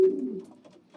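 A single short, soft coo comes from a bred racing pigeon, a cock with an orange ring, held close by in a loft. The note is low and quick and fades within a second.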